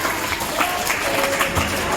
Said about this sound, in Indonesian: Tepuk tangan buat Stephen.